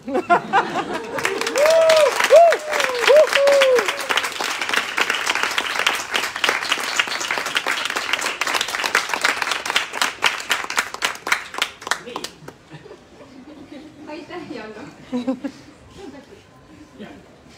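Audience at a poetry and art book launch breaks into sustained clapping that lasts about twelve seconds before thinning out, with voices and brief laughter mixed in at the start and talk continuing afterward.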